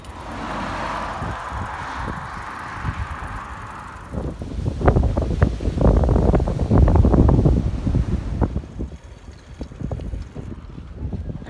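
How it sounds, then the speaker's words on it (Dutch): Strong wind buffets the microphone at a harbour in Punta del Este, Uruguay, a loud roaring rumble with gusty surges through the middle, then easing slightly toward the end; no voices. "Veel wind, hè?"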